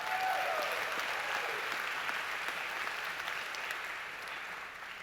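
Audience applause at a high school spring concert, a dense, steady wash of many hands clapping that fades gradually, filling the hall with no talking.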